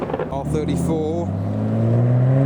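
A modified Nissan R32 GTR pulls away from a car show. Its engine note climbs steadily and grows louder after a moment of talk at the start.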